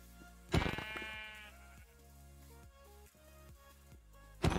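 A sheep in the Minecraft video game lets out a single bleat near the start, loud and close, followed by quieter game sounds and music.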